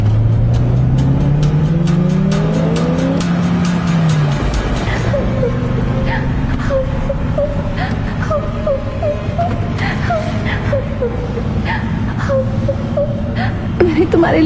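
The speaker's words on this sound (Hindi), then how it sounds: "सुमित गाड़ी की रफ्तार तेज करता है।" A car engine revs up, its tone rising over the first few seconds before settling into a steady drone, with a voice wailing and talking over the rest.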